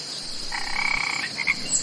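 Cartoon frogs in a pit croak in a brief rasping burst of a few repeated calls over a steady high hum, close and fairly loud, with no talk.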